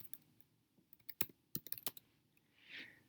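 Short burst of typing on a computer keyboard, a cluster of crisp, close key clicks in a quiet room followed by a soft swish.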